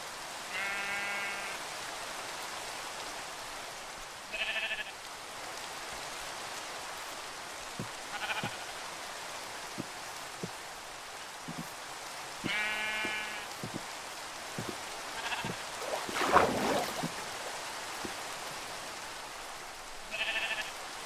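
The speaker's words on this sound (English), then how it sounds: "Alright, come on, sheep." Sheep in Minecraft bleat in short bursts at irregular intervals, alone against a soft hiss like light rain, with occasional small clicks and a brief louder rustle.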